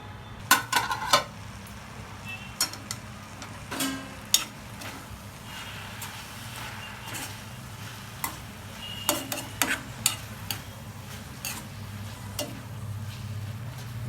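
Fenugreek leaves with mung dal stirred in a pan, quiet low cooking hum punctuated by scattered sharp clinks and scrapes of a utensil against metal, with longer pauses between them.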